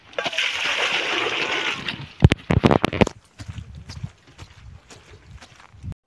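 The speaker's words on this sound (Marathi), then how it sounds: "एका गायला पाणी आता पाजू राहिलो आहे बघा" A cow is given water to drink, with a steady rush of splashing and sloshing water for about two seconds. Then come a few sharp knocks and clatters, and quieter scattered slurps and thuds, nearby and outdoors.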